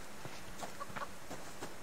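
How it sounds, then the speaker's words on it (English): A chicken in the survival video game Subsistence gives a few soft, faint clucks at a moderate distance, scattered over a low, steady background hum with no talk. "I hear you, chicken."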